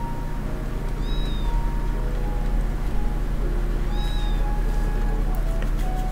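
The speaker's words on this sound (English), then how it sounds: "Here, kitty, kitty, kitty." A cat meowing inside the video game Trails of Cold Steel 3, two short, clear meows a few seconds apart over a steady low game background hum.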